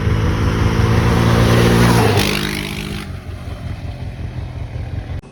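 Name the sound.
Yamaha Raptor 700R ATV engine and exhaust on trail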